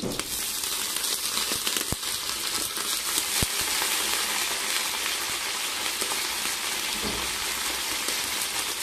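Garlic sizzles and crackles in a hot pan, a dense, steady frying hiss with scattered sharp pops, close and continuous with no talk.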